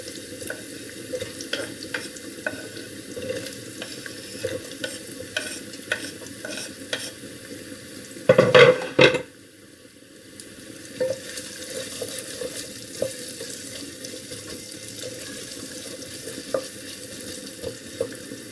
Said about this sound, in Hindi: अब मैं इसके अंदर डालूंगी प्याज,